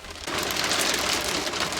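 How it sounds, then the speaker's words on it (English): Heavy rain pours down outside, a dense steady roar that starts abruptly after a brief quieter moment and stays loud and continuous to the end. "Boy, it's pouring out there."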